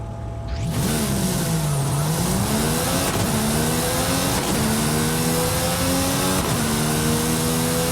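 A Jeep Trackhawk engine roars loud and close as the vehicle accelerates hard, pitch climbing through several gear shifts with brief dips between each rising pull, heard alone without talk.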